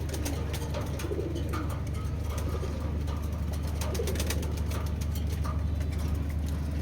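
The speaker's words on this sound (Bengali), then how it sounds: "মাশাআল্লাহ, শুধু কবুতরগুলো দেখেন।" Breeder racing pigeons in a loft coo softly and continuously, low murmuring calls layered over a steady hum and faint distant traffic, with no voices.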